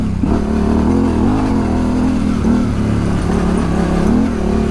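Yamaha Tenere 700 motorcycle engine revving under throttle while riding off-road, a loud, continuous, fluctuating drone close to the listener, with no talking.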